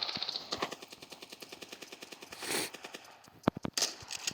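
Rapid automatic gunfire in the mobile shooter game Standoff 2, a fast rattling burst of steady shots followed by a few louder, sharper single cracks near the end, with no talking.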